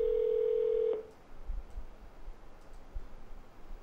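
A telephone line tone after a call is cut, heard as a steady, clear beep for about a second that ends in a click, followed by faint room hiss.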